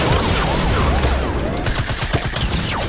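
Rapid bursts of gunfire in the video game Fortnite, several volleys and shots crackling in quick succession, loud and close with a busy game soundscape behind.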